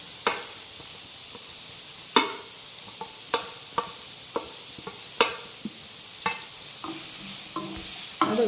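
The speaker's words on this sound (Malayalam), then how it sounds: "അപ്പോൾ നമുക്ക് അതിലോട്ട് സവാള, ഇത് 3 സവാള അതിൻ്റെ നൈസായിട്ട് അരിഞ്ഞ് വെച്ചേക്കുന്നത്." Three thinly sliced onions sizzle in hot oil with popped mustard and fennel seeds while a spoon stirs and scrapes the pan in sharp, irregular strokes over a steady frying hiss, close and without talk.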